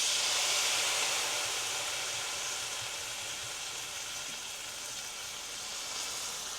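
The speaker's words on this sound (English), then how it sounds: "we are going to deglaze our pan with our dry wine now" Dry wine hits a hot pan of cooked-down tomato paste while making Cuban ropa vieja, bursting into a loud hissing sizzle of steam that slowly eases to a steady, softer simmer, with no talking.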